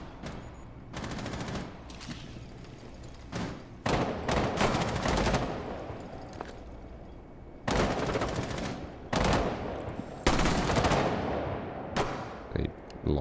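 Gunfight in Rainbow Six Siege, with bursts of automatic rifle fire and single sharp shots arriving in irregular clusters, some loud and close, others quieter, separated by brief lulls and with no talking.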